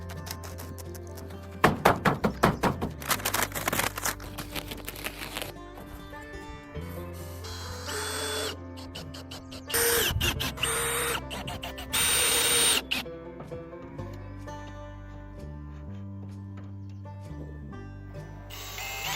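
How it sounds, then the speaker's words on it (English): A screw machine driving screws through a tin roof ridge cap on a wooden cabin in the forest, with several short whirring bursts and tapping knocks over steady background music. "He is using a screw machine to firmly screw the ridge cap."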